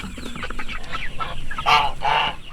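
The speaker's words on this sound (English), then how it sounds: "About 400 free-range chickens seek shade from the hot August sun." Free-range chickens on a farm cluck and squawk in short, irregular bursts, close and fairly loud, with a couple of louder calls near the end and no talk.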